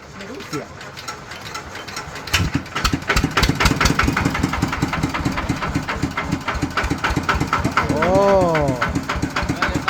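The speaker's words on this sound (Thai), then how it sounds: "เดี๋ยวจะลองสตาร์ทเครื่องแล้วลอง ขับดู" A homemade Isan farm vehicle, built by a Surin mechanic, cranks and catches about two seconds in, then runs at a fast, steady chugging idle, loud and close, with a voice heard briefly over it.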